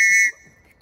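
A cheap Temu survival whistle gives one short, piercing blast, loud and close, that cuts off abruptly after about a third of a second.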